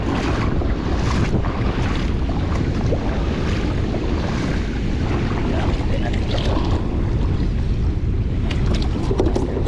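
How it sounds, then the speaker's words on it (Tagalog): Loud, steady rush of wind buffeting the microphone over churning, crashing waves, a continuous roar with no pauses. "medyo malakas pa yung alon, gawa ng malakas ang hangin"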